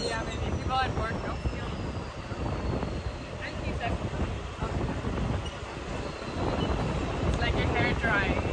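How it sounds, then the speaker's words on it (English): Wind rushes loudly through an open Mumbai local train in motion, a continuous roar mixed with rail rumble and rattling carriage noise, with faint voices underneath. "It's like your hair drying. And it's like so windy."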